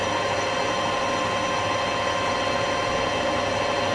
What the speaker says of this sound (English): This stainless certainly likes a deeper cut.